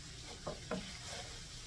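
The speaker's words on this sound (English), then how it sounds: "Let me get this stirred in real good." Flour is stirred into hamburger gravy in a pan. Two soft scraping strokes come close together under a faint sizzle, and no one speaks.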